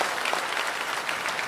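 A brief burst of applause follows the announcement of the Shenzhou 20 crewed mission launch, with dense crowd clapping filling the short moment at a steady level.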